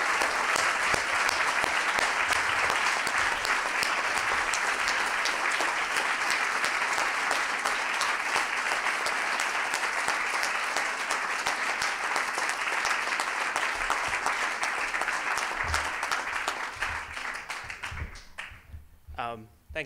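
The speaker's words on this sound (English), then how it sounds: "So let's have a big round of applause for Cloé and Gabriel." A large crowd at a talk on Quebec's student strike claps long and loud for two activists, a sustained dense ovation that thins and fades to scattered claps near the end.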